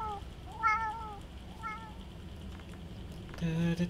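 Cat meowing in the video game Starbound: a few clear, rising meows spaced apart, followed by a brief buzzy tone at the end.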